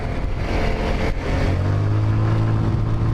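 A Lexmoto Diablo 125 motorcycle engine is opened up and accelerates, a steady close buzzing drone that climbs in pitch partway through and holds there, with no talk.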